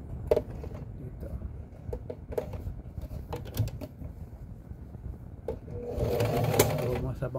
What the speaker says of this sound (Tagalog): Okay, so tahiin na natin dito.